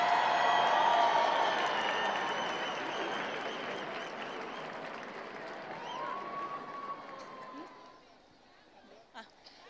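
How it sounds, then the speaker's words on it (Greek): A New Year's Eve crowd at the Stavros Niarchos Foundation Cultural Center gives warm applause to a first-place award winner: loud, dense clapping that slowly thins and fades out near the end, with some talk under it. "Και στην πρώτη θέση ένα πολύ θερμό χειροκρότημα, η Γλυκερία Σκάρκου."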